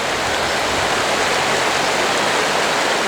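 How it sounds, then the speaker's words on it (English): A river in a small Welsh village rushes steadily beneath a quaint bridge, a loud, continuous broadband wash of flowing water with no voices. "A nice river running through it"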